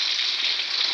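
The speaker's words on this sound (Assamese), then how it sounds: "আৰু এয়া মায়ে দালি চম্ভাৰ মাৰি আছে" Dal tempered in hot oil with panch phoron and chili in a kadai, a steady, close, bright sizzle with no pause.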